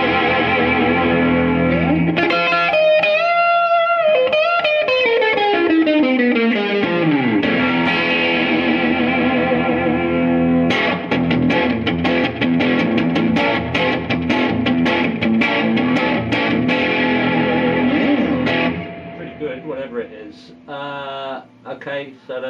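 Electric guitar played through a Marshall MG50 DFX amp with its chorus effect engaged, loud and close, shifting from sustained shimmering chords to fast strummed and picked passages before thinning near the end.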